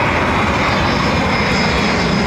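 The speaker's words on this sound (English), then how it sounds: "great startup sound, the old IAEs" An airliner with old IAE engines spools up at an airport, a loud, steady, broadband roar filling the whole stretch with no voices.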